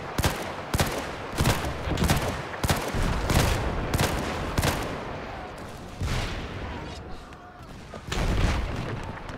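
Gunfire in the WW1 video game Between Empires: a steady run of loud, sharp rifle shots at fairly regular intervals, then sparser, more distant reports with brief quieter gaps and a heavy blast near the end.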